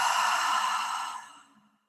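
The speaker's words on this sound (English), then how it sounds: "And exhale. Breathe in through the nose." A person exhales steadily during breathwork, a long, close, breathy rush of air that fades out to silence after about a second and a half.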